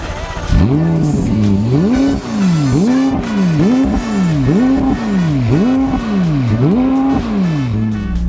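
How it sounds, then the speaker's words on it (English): A McLaren 675LT Spider's rear-mounted 3.8-litre twin-turbo V8 revs repeatedly and loudly close by, each blip rising sharply then falling in a regular rhythm of about a dozen rev cycles. "V8 twin turbo engine that gets you 675 horsepower, sits in the back and makes a hell of a noise."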